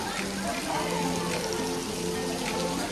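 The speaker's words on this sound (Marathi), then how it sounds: "पाऊस भरपूर आहे बघा" Steady heavy rain falls in Lonavala in a dense, even hiss, with water trickling and faint low tones mixed in underneath.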